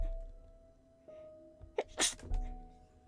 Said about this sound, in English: I'm going to sneeze, I'm sorry.